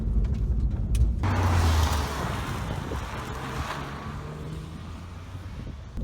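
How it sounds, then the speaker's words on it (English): A Porsche 996-generation 911 with its flat-six engine, heard as a steady, loud, close drone from the car, mixed with rushing wind noise and no talking. "I love the sound of the Porsche Flat 6."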